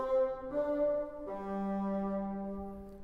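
Bassoons play the horn passage from Beethoven's Fifth Symphony in a different key, sustained orchestral notes shifting pitch in a few held phrases, loud and clear with no talking.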